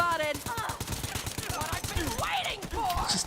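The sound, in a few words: SMG gunfire in video game Borderlands 3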